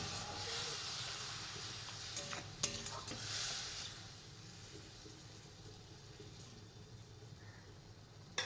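Spiced vegetables and onions simmering and frying in a pan for a brinjal and small river prawn dish, a steady soft sizzle and hiss with a few stirring scrapes, fairly quiet and close.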